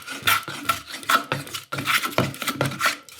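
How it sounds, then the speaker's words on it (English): Hand plane shaving across the top of wooden dovetails on a workpiece, a run of rasping strokes with short pauses between them, close and fairly loud. "take a couple of shavings like this"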